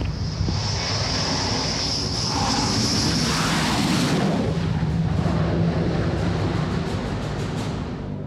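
A Rafale fighter jet landing on the deck of the French aircraft carrier Charles de Gaulle, heard as a loud, steady roar of jet engine and rushing wind that fills the whole stretch, with a swelling surge near the middle.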